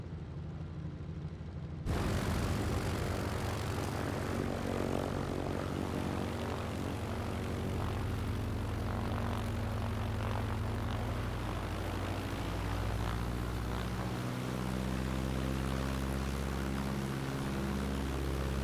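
A T-6 Texan warbird's radial propeller engine drones steadily while taxiing in a flight simulator game, starting abruptly after near-silence and holding loud and continuous, with the pitch and load shifting toward the end.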